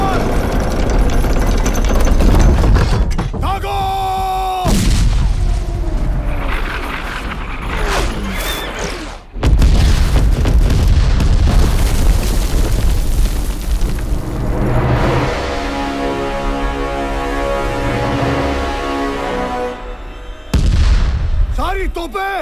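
Artillery cannons fire during a battle scene in a Hindi action film, with loud booming blasts breaking over a dense, continuous roar of battle noise and score while voices call out commands.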